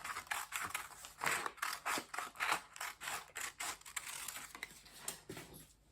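Scissors cut through a strip of fabric for a halter neck top, with rapid, rhythmic snips and crisp slicing strokes up close and no talking.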